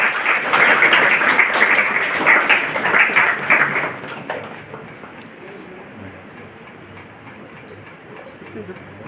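Dense applause from an audience at an institute event for students fills the first four seconds, then fades quickly, leaving quiet room tone.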